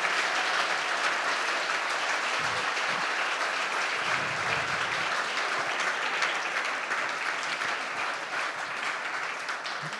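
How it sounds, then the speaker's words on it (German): Sustained outdoor audience applause at a regional ceremony with participants in traditional costume, dense steady clapping from a large crowd lasting the full ten seconds, fairly even in loudness. "Die verdienen sich einen Applaus."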